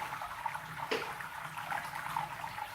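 Steady rushing and trickling of liquid draining in a beer brewing machine, with a brief clunk partway through, continuous and fairly close.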